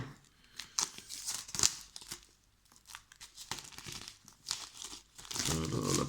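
Plastic wrapping on a collector Blu-ray case is torn and crinkled open, with close, bursty crackling and ripping sounds that come in uneven spurts with short pauses.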